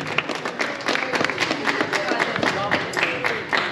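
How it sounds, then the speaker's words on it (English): Audience applause after a talk by a Melbourne City player at a school gathering: a sustained crowd of clapping hands, dense and moderately close, with a few voices blending into the steady patter. "Please give a round of applause."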